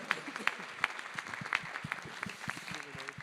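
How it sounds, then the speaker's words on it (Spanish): A conference audience applauds the panelists after a session, a brisk patter of many hands with distinct sharp claps close by, while a voice speaks briefly underneath. "un aplauso para ellos por todas las presentaciones que han hecho el día de hoy"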